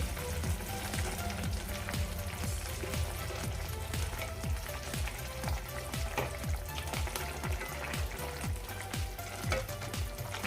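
Dried bombil fish cooks in a covered pan in an Aagri-style dry dish, with a dense, steady sizzle and crackle that continues close and evenly throughout.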